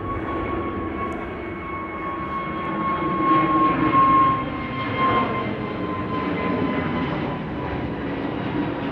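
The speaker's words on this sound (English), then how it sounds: "we have an A320 Neo to Manchester now passing us by over here" An Airbus A320neo airliner rolls past at Amsterdam Schiphol Airport with a steady engine roar and a clear tonal whine, swelling briefly louder midway, with no voices.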